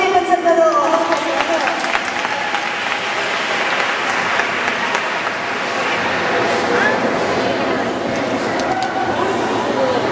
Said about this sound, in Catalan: un aplaudiment per Salvador!